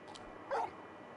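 A large dog whimpers in Final Fantasy XVI, a single short high whine in the middle of the clip over quiet game ambience.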